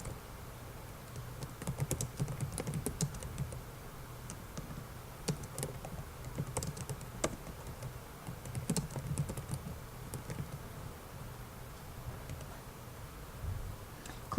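Computer keyboard typing runs steadily throughout, a quiet, close stream of irregular key clicks with brief pauses and no talking.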